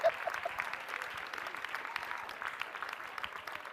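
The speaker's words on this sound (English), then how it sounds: "Everybody clap, man." Audience applause from a crowd at a leadership talk, a sustained patter of many hands clapping at moderate level, steady throughout without speech.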